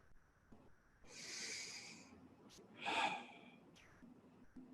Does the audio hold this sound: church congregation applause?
no